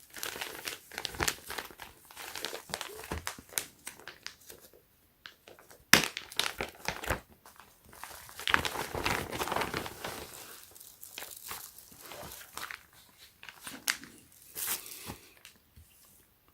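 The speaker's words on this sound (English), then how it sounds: "And this is a clear Ziploc bag." A clear Ziploc plastic bag handled up close, giving bursts of crisp crinkling and rustling that come and go across the whole stretch, with no talking.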